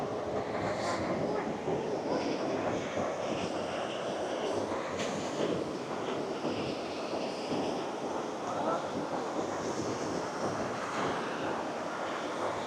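Surf rolling in at busy Kata Beach, Phuket, a steady broadband wash of waves mixed with wind and distant crowd chatter from many people on the sand and in the water, continuous and moderately loud throughout.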